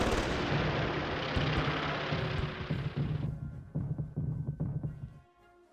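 Strafing gunfire from aircraft attacking airfields in a Battle of Britain strategy game, a loud roaring wash that gives way to a series of sharp, thudding shots fading out at the end.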